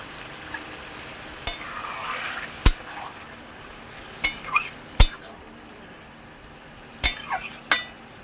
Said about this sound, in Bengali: অল্প অল্প করে ঢেকে ঢেকে মাংসটা কষিয়ে নেব